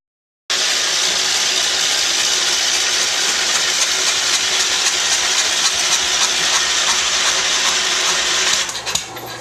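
A Wheel Horse C-145 lawn tractor engine fires steadily and loudly for several seconds while being started, as a continuous rough drone that cuts off abruptly near the end, with no talking.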